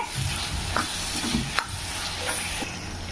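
Tomato masala with curry leaves sautéing in a pan for a fish polichathu gravy, a steady close sizzle with soft stirring scrapes and occasional spatula knocks, no talking.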